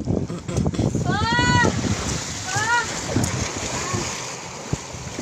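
Strong waves slap and splash around a small outrigger boat at sea, with gusty wind buffeting the microphone and people calling out over the roar of water.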